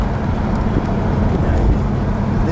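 A 1969 AMC Ambassador SST sedan cruising along the road, heard from inside the cabin as a steady low road and engine rumble with a faint wind hiss, and nobody talking.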